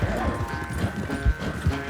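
Horse hooves clip-clopping at a steady trot in Red Dead Redemption 2, rhythmic thuds mixed with game sound and background noise, a voice faintly present.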